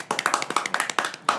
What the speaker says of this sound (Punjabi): ਚਲੋ ਤਾਲੀ ਅੱਛਾ ਜੀ ਹਾਂਜੀ ਕਲੈਪ ਆ ਲਓ ਭਾਜੀ